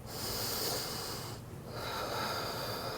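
Deep breathing during a yoga twist in a detox vinyasa flow: steady, close breaths with an airy hiss, a brief pause near the middle, then a fresh long inhale or exhale.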